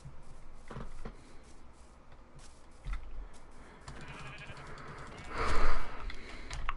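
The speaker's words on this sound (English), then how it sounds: "Sheep." A sheep in the Minecraft video game bleats once, loud, near the end of a stretch of busy game background sound.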